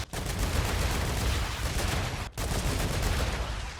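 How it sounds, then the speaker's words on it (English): Sustained machine gun fire from the video game StarRupture, loud and continuous with dense rapid bursts, a brief break partway through before firing resumes. "Let's just get the machine gun out."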